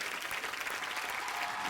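An audience on a comedy talk-show set applauds to welcome a singer onstage, a short, even burst of clapping that sounds fairly soft and distant.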